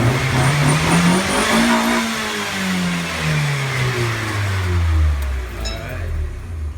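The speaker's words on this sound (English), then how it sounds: "It's pretty much all engine noise right now." A Mazda NA Miata engine with a new side-exit exhaust and catalytic converter revs up and down close by, its loud, rough exhaust note rising and falling steadily for several seconds with no talk.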